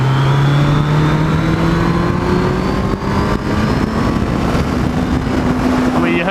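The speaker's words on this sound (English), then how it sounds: "you heard the RPM change then, surely" Yamaha Fazer 600 (1998) engine heard on board while riding, loud and steady with a droning tone whose pitch climbs gradually as revs rise, wind noise underneath throughout.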